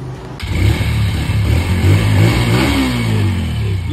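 A nearby motorcycle engine revs and rumbles steadily, its pitch rising and falling as the throttle is worked.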